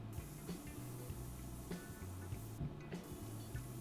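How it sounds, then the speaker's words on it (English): Hissing spray paint from a can being applied to a house in a video game, a steady airy spray with repeating short mechanical pulses underneath, with no talking. "Spray paint."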